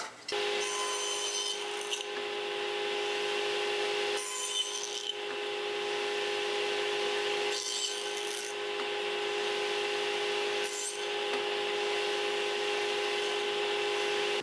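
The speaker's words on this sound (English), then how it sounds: "I'm using my miter gauge and the regular saw blade in my table saw to nibble away a notch in the back cross member" A table saw fitted with a regular blade spins with a steady high whine while it nibbles a notch in a pine cross member, and its tone roughens in a few brief passes as the wood is cut; close and continuous.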